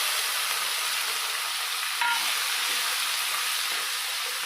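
Chopped onion and capsicum fry in a pan, giving a steady, even sizzle and hiss with a brief soft clink partway through and no talking.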